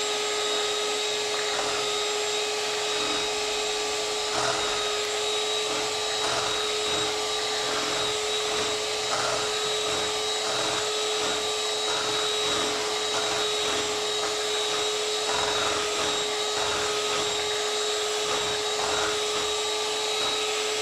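An electric mixer whisks crêpe batter with milk, giving a constant high motor whine with faint, irregular clatter of the beaters against the bowl throughout.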